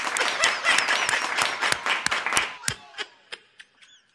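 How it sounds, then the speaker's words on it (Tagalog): A group of people clapping, brisk and fairly close for about two and a half seconds before thinning out into a few scattered, separate claps that trail off. "Ba't ka pumapalakpak?"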